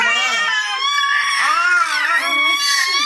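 A small child screams high and shrill, continuous and loud at close range, with the pitch wavering and rising.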